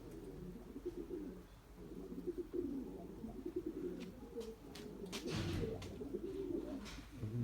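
Young white pigeons coo steadily in soft, rolling murmurs, with a few sharper chirps and rustles breaking through near the middle; no voices.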